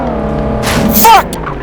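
A Lexus GS 350 F Sport V6 engine in the City Car Driving video game revs hard under acceleration, a loud close harmonic drone rising in pitch with a brief surge and tire squeal near the end.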